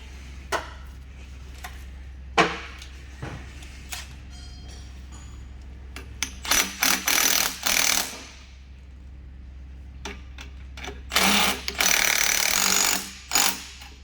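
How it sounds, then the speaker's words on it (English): Impact wrench tightening the top nut on a Mitsubishi Pajero front shock absorber, heard as several loud rattling bursts of a few seconds each, separated by quieter workshop pauses. "we'll do it up a little bit with the rattle gun"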